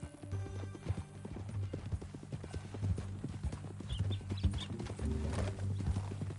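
Horse hooves clip-clopping steadily in the Red Dead Redemption II video game, a close, rhythmic series of hoof strikes layered over a low music bed, with a brief whinny-like sound near the end.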